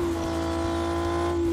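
A race car engine revs hard as the car pulls away, a loud, steady, close-up roar with a strong sustained tone throughout.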